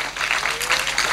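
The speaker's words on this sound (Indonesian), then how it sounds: "Tepuk tangan lagi tuh." An audience at a religious lecture claps briefly, a short patter of applause at moderate loudness with no talk over it.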